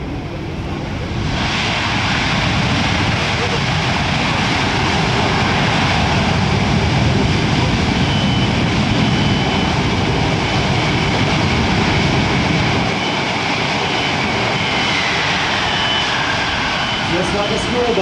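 A C-17 Globemaster III jet transport touches down during an airshow demonstration. Its engines give a loud, sustained roar that holds steady and dominates, while an announcer talks over it.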